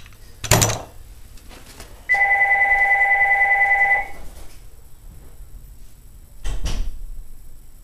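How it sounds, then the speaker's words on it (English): A telephone rings once with a sustained electronic ring of about two seconds indoors, between a couple of dull thumps and knocks. "of course, the phone's going to ring."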